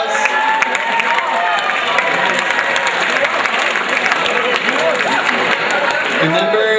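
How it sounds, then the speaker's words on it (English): A dense, steady round of audience applause for students honored as 3-star students at a school assembly, with a few cheers and voices mixed in, lasting throughout at an even, fairly loud level. "Let's give them a round of applause."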